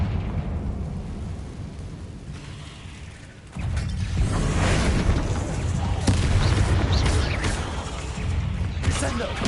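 A Confringo blasting spell from the video game Hogwarts Legacy bursts into loud, sustained explosive rumbling that swells partway through and rolls on with crackling booms to the end.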